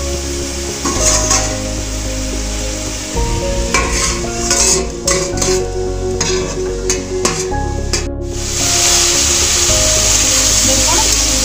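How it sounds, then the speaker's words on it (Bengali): Bottle gourd fries in a pan while being stirred, a loud close sizzle with repeated scraping strokes of a spatula, settling into a steady hiss toward the end. "দেখুন লাউগুলো একটু ভাজা ভাজা হয়ে এসেছে"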